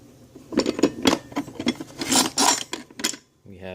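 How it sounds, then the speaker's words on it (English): A Harbor Freight metal file rasping, with several short, close scraping strokes in an uneven rhythm. "We have this Harbor Freights metal file"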